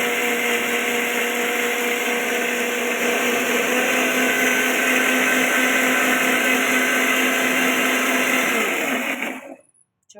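A kitchen blender grinds coconut chutney for idli in a steady loud whir that holds for about nine seconds before spinning down and stopping.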